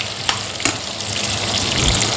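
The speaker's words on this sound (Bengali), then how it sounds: "আলুগুলো ভেজে নিই," Potato pieces fry in hot oil. A close, continuous crackling sizzle fills the whole moment, broken by a couple of sharp ticks early on.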